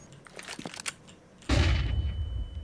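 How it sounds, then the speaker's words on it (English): A flashbang thrown in a first-person shooter game, a few light clattering taps as it lands and bounces, then a sudden loud pop that rings out into a sustained high tone, with no talk. "I'll throw it as a flash to see how hard it is to dodge."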